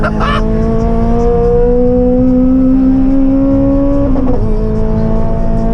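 Honda Civic Type R FN2 launching hard under launch control, a loud sustained engine note climbing steadily in pitch for about four seconds before a brief shift-like dip, close and continuous.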